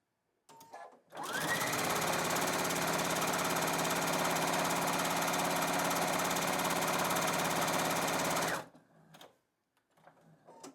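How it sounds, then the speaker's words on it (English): A sewing machine stitches pinned quilting fabric squares along a diagonal line, a loud, steady whir running about seven seconds without pause, starting and stopping cleanly, close by and with no talking. "I'll go ahead and sew along each diagonal a 1/4 inch away from the line."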